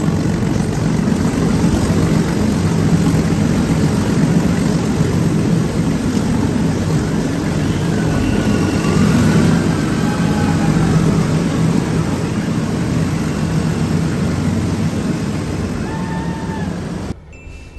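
A heritage metre-gauge train climbs a steep gradient with banker engines pushing from the rear, giving a loud, steady, heavy rumble that never lets up and dips only at the very end; no one speaks.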